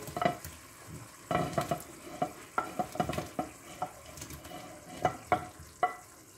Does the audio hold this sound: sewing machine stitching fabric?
no